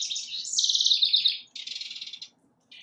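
A male house wren sings in a backyard, pouring out bright, rapid bubbling trills in two close bursts, then a short fragment after a pause, with no other sound around.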